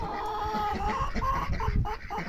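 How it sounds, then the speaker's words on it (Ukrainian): Muscovy ducks with clipped wings and chickens in a yard enclosure, giving busy overlapping clucks and low fowl calls close by, continuous over a steady background with no talking. "Вчора пообрізали крила інду качкам, то сидять в загороді."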